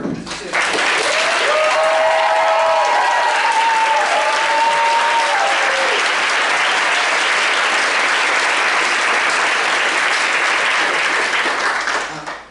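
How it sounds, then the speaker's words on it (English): Loud, sustained audience applause for the four witnesses at a national mock-trial competition final round, a dense wash of clapping from a large crowd with a few voices talking over the start. "Can we give a round of applause to our four witnesses to our decision?"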